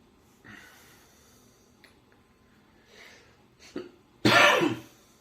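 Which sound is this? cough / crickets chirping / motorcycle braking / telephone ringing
cough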